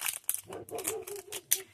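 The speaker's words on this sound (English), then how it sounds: "Excuse my dog barking." A pet dog barks repeatedly indoors during a paper craft session, several short sharp yaps spread across the moment, moderately loud and close with no talking over them.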